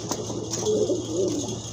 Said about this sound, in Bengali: বিগ সাইজের একটা নর কবুতর